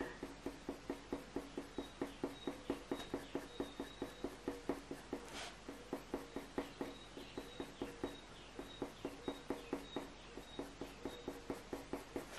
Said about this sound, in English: That bird's really loud.